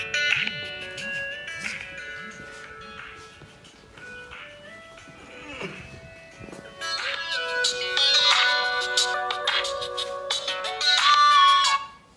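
A phone rings for an incoming call, a melodic electronic ringtone repeating its tune for several seconds and growing louder toward the end, without speech.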